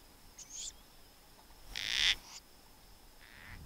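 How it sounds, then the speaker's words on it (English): A marsh owl calls out over grassland with a few short, harsh rasping bursts, one louder in the middle and fainter ones before and after, amid quiet outdoor background with insect-like buzzing. "That's a marsh owl."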